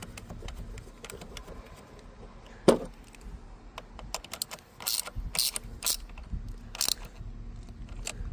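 Negative battery terminal cable being tightened on a 2015–2017 Chrysler 200: faint, quick ratchet clicks and small metallic taps, with a sharper knock partway through, close by and without speech.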